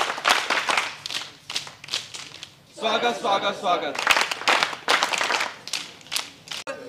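Rhythmic group clapping greets arrivals at a college scout and guide event, steady and fairly close, mixed with loud unison chanting voices throughout.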